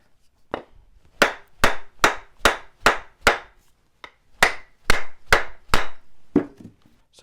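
A wooden tool handle, made from an old table leg, knocked repeatedly on its end to seat an old ferrule. Sharp, close, evenly paced raps come in two runs of about six with a short pause between them.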